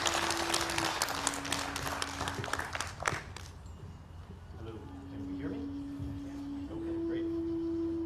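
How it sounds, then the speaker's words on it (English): An audience at an outdoor Tai Chi and Qigong Day event in Bradenton, Florida claps, a burst of applause that fades after a few seconds, leaving quiet background with a steady hum and some faint voices. "Big round of applause!"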